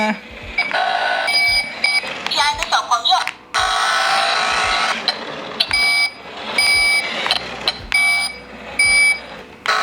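A remote-control toy tractor-truck with a built-in speaker plays loud, close electronic reversing beeps in repeated bursts, with short gaps between them.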